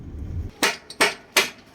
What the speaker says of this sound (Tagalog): Ay matanggal ng ball joint eh. Ba't mo pinokpok?